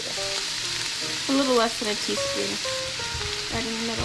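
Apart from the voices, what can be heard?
minced garlic sizzling in chicken sausage stir fry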